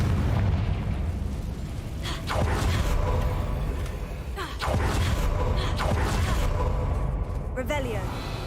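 Confringo fire spells explode in the Hogwarts Legacy video game, with several booming blasts spaced a few seconds apart over game sounds and a voice talking.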